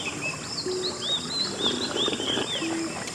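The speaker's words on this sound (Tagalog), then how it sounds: "Ibon tsaka lagaslas lang ng agos ng ilog." Birds chirp and call in short high phrases at a riverside campsite, with a soft steady wash of flowing river water underneath, fairly faint and distant.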